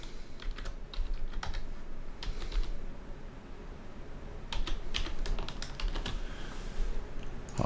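Password being typed on a computer keyboard, bursts of close, crisp keystrokes separated by short pauses, with no talking.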